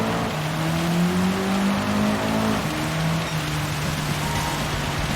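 A race car in Gran Turismo 7 braking and downshifting to first through a hairpin, a steady engine drone with falling gear tones and faint tyre noise, no talk.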